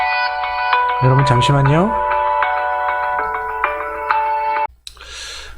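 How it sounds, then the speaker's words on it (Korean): Phone ringtone of an incoming call sounds in a real estate office, a loud melodic electronic tone repeating for several seconds before it cuts off abruptly, with someone briefly speaking over it near the start. "여러분 방금 전화가 왔는데요"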